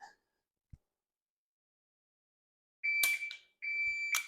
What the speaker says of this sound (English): I'm pressing the trigger as soon as it beeps